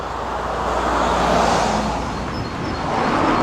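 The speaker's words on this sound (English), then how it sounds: "And like I said, more and more cars." Cars stream along a busy suburban road, a continuous roar of traffic with tires and engines swelling and easing as vehicles pass close by, no talking over it.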